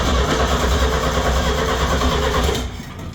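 A small engine on a shed-built vehicle cranks and tries to catch, a loud continuous churning close by that eases off near the end, with no speech.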